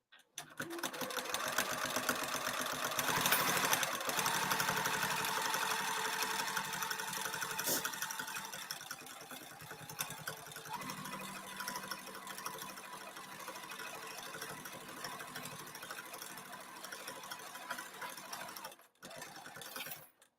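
A sewing machine stitches slowly through thick layered bag fabric for a cross-body bag, a steady rapid mechanical whir with faint clicks that eases and pauses, stopping briefly near the end before resuming.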